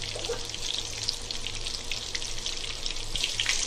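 Chicken cheese bites frying in hot oil, a steady dense sizzle with fine bubbling crackle that holds evenly throughout, close and moderately loud with no talking.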